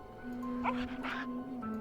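Short dog whimpers and yips from a World of Warcraft game dog, set against steady game background ambience and a constant low hum, with a few soft bursts in the middle.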